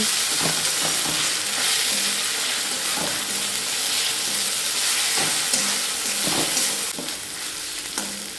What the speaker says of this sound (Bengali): বেশ কিছুটা সময় নিয়ে আদা রসুন খুব ভালোভাবে ভেজে নিয়েছি।